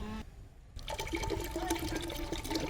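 Water pours steadily into urad dal porridge after a brief pause, a continuous splashing, gurgling flow that is fairly quiet and close.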